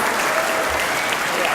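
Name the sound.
audience clapping for veterans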